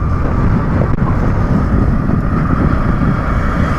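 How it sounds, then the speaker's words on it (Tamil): Strong wind buffeting the microphone while riding a Honda Splendor motorbike, a steady loud roar of rushing air with engine drone beneath, continuous throughout. "காற்று வேறு லெவல் அடிக்குதுங்க"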